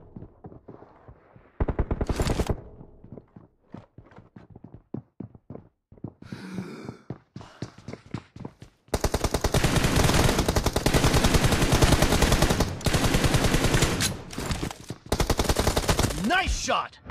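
Gunshots in the mobile battle royale game BGMI, scattered single shots early on, then long sustained bursts of rapid fire, loud and close with brief pauses between volleys.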